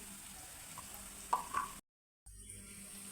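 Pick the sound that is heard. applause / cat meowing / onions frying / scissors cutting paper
onions frying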